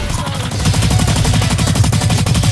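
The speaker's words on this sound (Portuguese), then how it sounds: "Atirando no nada." Sustained automatic gunfire in the video game Blacklight Online, a loud rapid stream of evenly spaced shots filling the whole short stretch without pause.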